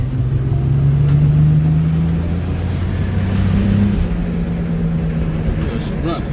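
A Volkswagen GTI VR6 engine runs steadily with a deep, close rumble and a droning tone that rises slightly, as if revving.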